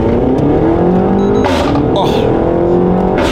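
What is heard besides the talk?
Renault Mégane RS engine revving as it drives off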